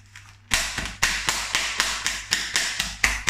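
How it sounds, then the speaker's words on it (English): About a dozen quick, sharp stabs pierce the plastic film lid on a frozen beef burrito bowl tray, each a crisp close tap or pop in an uneven rhythm, with no talking. "So I've got to pierce that film lid."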